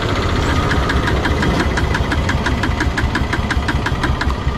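A Bajaj Pulsar P150 motorcycle that is out of petrol runs close and loud with a rough, rapidly pulsing engine note that holds steady throughout.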